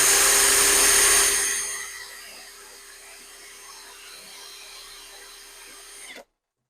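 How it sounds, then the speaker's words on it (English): Power drill fitted with a cheap TikTok Shop bit bores into a lock cylinder, whining loudly for a second or two, then dropping to a lower steady spin before cutting off abruptly. "Let's put one of these drill bits in quickly. And let's give that a quick go"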